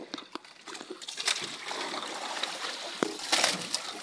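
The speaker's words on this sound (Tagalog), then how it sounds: "Talagang kalampagan ng alon." Sea waves crash and splash at the shore during a seaside fishing outing, irregular surges of churning water with sharper slaps, moderately loud, alone with no talk.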